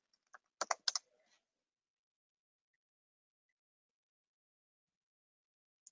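Computer keyboard keys tapped in a quick, close burst of about half a dozen clicks, as when erasing text, followed by near silence with one faint click at the end.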